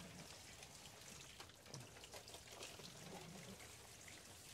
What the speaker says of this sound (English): Rainwater.